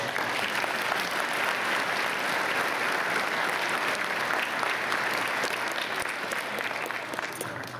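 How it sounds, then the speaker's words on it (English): Sustained applause from a graduation commencement audience, a steady dense clapping that fills the whole stretch at even loudness before tapering slightly at the end. "another quick round of applause for them"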